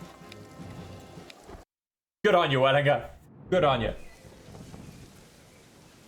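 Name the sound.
rain in the video game Nerves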